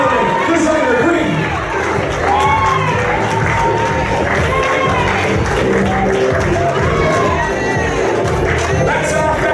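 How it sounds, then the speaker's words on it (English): A fashion show crowd cheers, whoops and claps loudly for a designer at the runway, with shouting voices and excited chatter mixed throughout. "Let's give our designer a round of applause."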